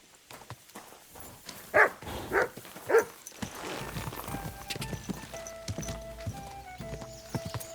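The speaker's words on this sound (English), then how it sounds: "Silly doggy." A dog barking in the Kingdom Come Deliverance 2 video game, three sharp barks in quick succession followed by ambient game noise with hoof clops and faint background sounds.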